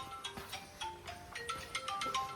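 A mobile phone ringtone plays a repeating electronic melody, faint and somewhat distant, as someone searches for the phone.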